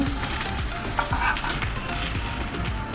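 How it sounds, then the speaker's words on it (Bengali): Bhetki fish paturi frying in a little oil: a steady, close sizzle and crackle with no pauses and no talk. "এভাবে আমি সবগুলো পাতুরি ভেজে নেব সামান্য একটু তেল দেবো"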